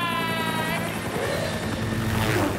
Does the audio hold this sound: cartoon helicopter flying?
yes